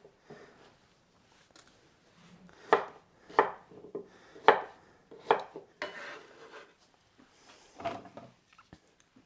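A knife chopping vegetables on a board, some cut fine and some coarser for soup, in uneven bursts of firm close thuds and short runs of quicker cuts separated by quiet pauses.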